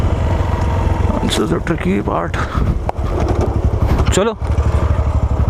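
A Hero Xpulse motorcycle engine idles and revs on an off-road trail, a loud, close, steady rumble with rising throttle blips, under excited talking between riders.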